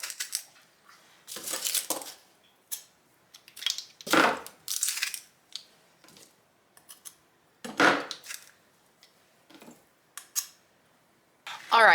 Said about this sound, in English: I'm just gonna run these through my garlic press.